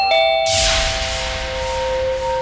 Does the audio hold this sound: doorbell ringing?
yes